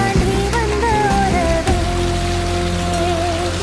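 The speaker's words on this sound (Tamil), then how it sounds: "வாய்க்கா வழி தண்ணி ஓடிட்டு இருக்குங்க" Water flows steadily along a rain-swollen irrigation canal after a night of heavy rain, a close, continuous rushing wash with no voices.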